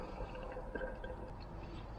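Water trickling and dripping into a trickle shower, a steady soft flow with faint irregular drips, continuous and fairly quiet throughout.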